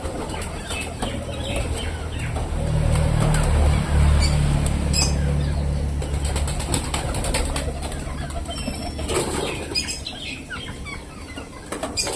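Pigeons on a rooftop, with wings flapping and fluttering in bursts close by, then softer shuffling and scattered taps over a low background murmur.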